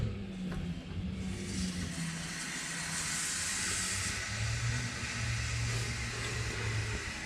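Water pipes hiss as the mains are switched on in an abandoned apartment, a continuous rushing hiss with a low steady hum, close and unbroken, without talk.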